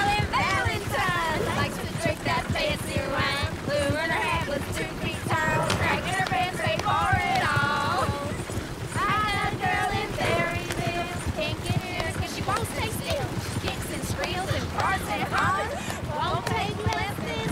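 Horse hooves galloping in the video game Red Dead Redemption, a fast steady clip-clop running through the whole stretch beneath game music and chatter from players.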